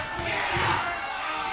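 Crowd noise at a live HWA professional wrestling event, a steady roar of cheering spectators filling the arena at moderate loudness, with no clear individual voices rising above it.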